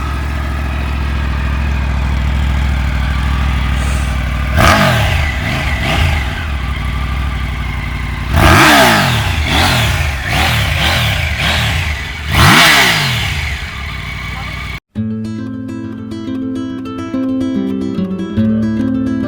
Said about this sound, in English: Triumph has changed up the firing order of this bike, which is why you don't hear that high revving superbike sound on the Tiger anymore